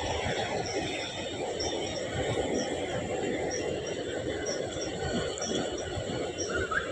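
A train rumbles steadily across a railway bridge over a creek below hills, a continuous loud clatter and roar of wheels with faint squealing, and no voices.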